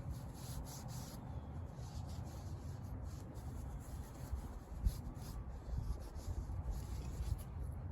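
Rag wiping excess grease off a re-greased idler bearing, a steady soft rubbing and scuffing that runs throughout, close and fairly quiet, with one brief knock midway.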